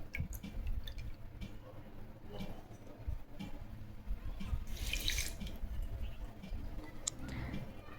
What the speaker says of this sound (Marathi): आणि पाऊण वाटी पाणी.